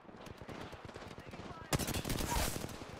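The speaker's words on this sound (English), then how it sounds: "Contact. Contact. Listen up, I'm getting shot at." Rapid automatic gunfire rattles in a battle royale video game, bursts of quick shots at first, then a louder, denser barrage erupting partway through, with a voice talking over it.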